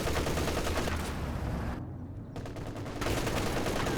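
MG34 machine gun in Company of Heroes 2 rattling off sustained bursts amid dense battlefield gunfire, briefly dropping out before the loud, continuous firing resumes.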